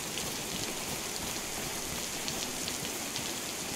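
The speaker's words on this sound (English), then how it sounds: "it's not good that it's raining, but at least it hides me from the zombies a little bit better" Steady rain falls in the video game DayZ, an even, dense hiss of drops that stays constant throughout with no voices over it.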